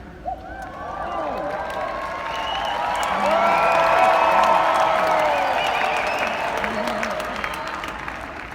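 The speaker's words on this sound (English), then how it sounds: "Thank you for the applause, really appreciate it." A large seminar audience applauds and cheers at a motivational event. Dense clapping and whoops swell to a peak midway, then ease off while voices carry over the crowd.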